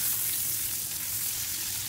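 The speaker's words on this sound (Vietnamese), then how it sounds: "mình sẽ lật đều cái miếng bistec cho nó chiên đều với cái bơ cho nó thơm" Beefsteak fries in butter and oil with garlic, giving a steady, dense crackling sizzle that runs unbroken at close range with no voices.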